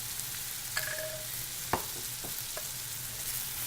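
Pasta with smoked salmon sizzles softly in a pan under a steady hiss, with a couple of faint clinks and scrapes as it is stirred.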